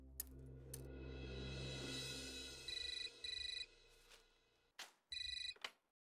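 An old-style telephone bell rings in two short bursts, then once more after a pause, sounding close by over a low background hum.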